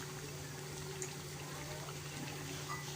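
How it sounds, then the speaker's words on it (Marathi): A little water is poured into ground masala while cooking a dry liver dish, giving a faint, low liquid trickle against steady kitchen background hum, with no talking. "हे वाटण सगळं हे करण्यासाठी थोडंसं पाणी घ्यायचं।"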